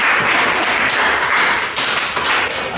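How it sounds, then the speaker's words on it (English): Audience applause for a speaker named Scott, a loud dense wash of clapping from a close crowd, steady throughout with a slight dip near the end. "Okay, big round of applause for Scott."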